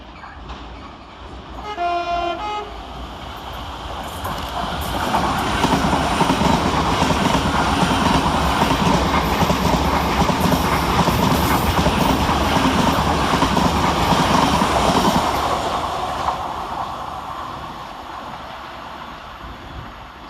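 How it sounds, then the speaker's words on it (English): Thameslink Class 700 unit 700-111 races through Preston Park station without stopping: a short horn toot, then a swelling rush of wheels and traction noise that peaks loudly for about ten seconds and fades away. "Next to pass fast through the station is 700-111, working 9 Sierra 24 for Thameslink from Brighton to Cambridge."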